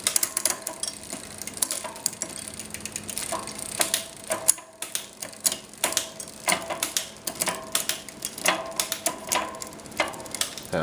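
A bicycle's rear derailleur shifts gears sluggishly on a work stand, giving irregular mechanical clicks and ticks over a whirring, spinning chain, close and fairly quiet.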